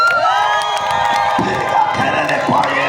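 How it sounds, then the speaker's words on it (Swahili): A church congregation cheers and shouts praise to Jesus, a loud, continuous crowd roar of many voices with whoops rising over it throughout. "Piga kelele kwa Yesu aliye."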